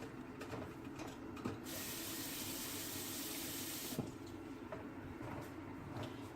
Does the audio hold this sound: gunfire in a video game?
no